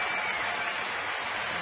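Big crowd at a Dodgers–Astros baseball game in Houston applauding a comeback, a steady broadband wash of clapping and cheering that fills the whole stretch at moderate level with no distinct voices.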